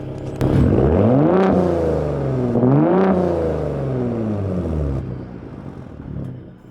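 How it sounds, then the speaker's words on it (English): A stock 2022 Ford Raptor Gen 3 with a twin-turbo V6 in Baja mode, revved from about four feet away: two loud, rising-and-falling engine revs followed by a steady idle, with no talking. "and you guys can hear it rev"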